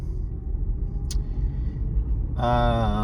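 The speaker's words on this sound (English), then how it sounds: "Driving my mother's car." Steady low engine rumble and road noise fill the cabin of a moving car from inside, continuous and fairly loud, with a tonal hum rising near the end and no talk.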